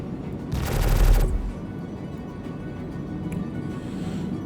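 A burst of rapid gunfire comes from the front-mounted guns of an Anvil Terrapin ship in Star Citizen. The automatic fire lasts about a second, is loud and booming, and is followed by a low engine hum.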